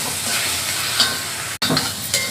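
Minced meat for keema fries in a pan as turmeric, coriander powder and chilli powder are stirred in, giving a steady close sizzle with scraping stirs and a brief break partway.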